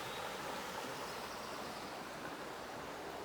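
Creek water flows in a soft, continuous rushing murmur, faint and even throughout with no voices.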